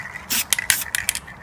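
A spray paint can hisses in short bursts while coating car rims on a Nissan 240SX, close and loud, with a few quick clicks or taps between the sprays.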